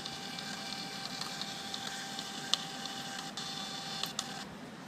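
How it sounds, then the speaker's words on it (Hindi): A breath analyzer used for drunk-driving checks runs its built-in printer to produce a test receipt, making a steady mechanical whir with faint ticking and a couple of small clicks, moderately quiet and close, with no voices. "अब यहाँ से आप ये प्रिंट का बटन दबाओगे तो ये प्रिंट निकल जाएगा।"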